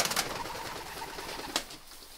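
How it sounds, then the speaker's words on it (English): Pigeons fly around overhead on a farm with goats in winter, a faint distant scene with soft bird calls and a few brief fluttering bursts. "those are the pigeons flying around up here"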